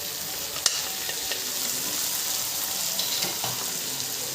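Boiled black gram dal tipped into a pan of frying pork, giving a steady close sizzle with a brief sharp clatter near the start and light stirring scrapes throughout.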